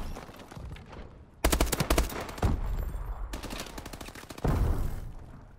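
Automatic ARX-160 rifle fire in Call of Duty Advanced Warfare, rapid sustained bursts of close, loud unsuppressed shots separated by short pauses over low game ambience.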